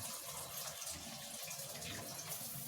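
A faucet set to a shower-style spray runs steadily as a continuous broadband hiss of falling water, close and unbroken, with no talk.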